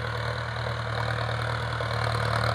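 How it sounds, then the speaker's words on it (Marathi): A Mahindra Arjun 9605 tractor engine idles close by with a loud, steady, even drone that holds unchanged throughout, with no talking. "हा आपला अर्जुन 9605 महिंद्राचा ट्रॅक्टर आहे."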